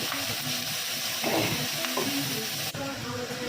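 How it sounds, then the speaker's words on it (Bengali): Prawns fry in a hot pan with a loud, steady sizzle and crackle, joined by scraping as they are stirred. "চিংড়িটা ভেজে নিচ্ছি"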